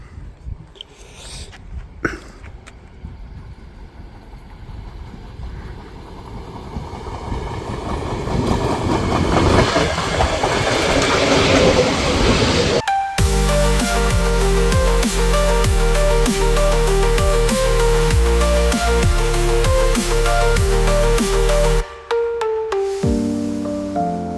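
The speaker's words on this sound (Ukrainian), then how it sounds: "Ось його електричка прибуває." A new electric commuter train rolls into a station, its rumble growing loud and close, then a long steady horn-like tone blares before the noise cuts off.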